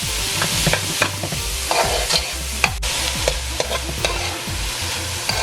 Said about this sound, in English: And now I'm going to add the smoked herring to the onions, garlic and hot peppers, and let this cook for a little bit.